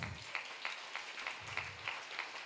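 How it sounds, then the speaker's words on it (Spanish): A church congregation applauds all the mothers, a fairly faint, even patter of clapping with rhythmic accents lasting a couple of seconds, with no voice over it. "Démosle un aplauso a todas las madres."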